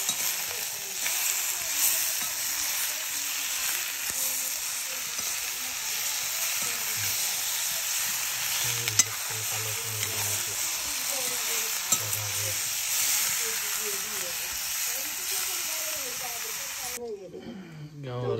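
Pork from a local black pig frying with chili and ginger in a pan in a village kitchen, a steady close sizzle running throughout while a voice talks over it.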